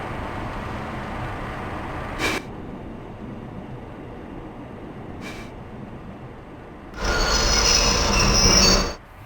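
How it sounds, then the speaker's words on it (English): A British Rail Class 31 locomotive train in OpenRails, running Harwich to Manningtree, gives short sharp brake squeals, then a longer loud screech as it slows to a stop, with no talk over it. "love the brake squeal sounds"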